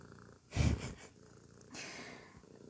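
A cat purrs close by in soft rhythmic rumbles, two louder breathy bursts standing out against quiet surroundings.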